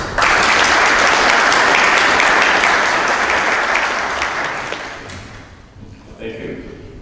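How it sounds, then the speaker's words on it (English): Audience applause at a Korea–Romania defense industry council meeting, a dense steady wash of many hands clapping loudly for several seconds before tapering off into scattered claps and room noise. "Bring round of applause."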